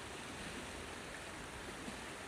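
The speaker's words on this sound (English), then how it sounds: "Just love the sound of water." Steady, continuous rush of flowing water, broadband and even, with no voices, from Quittie Creek running nearby in a nature park.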